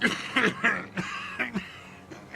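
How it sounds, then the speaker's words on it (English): A person coughs repeatedly in rough, hacking bursts, a close-up coughing fit with short gasps between the coughs, from the video game Disco Elysium. "His hand shakes and he breaks into a coughing fit."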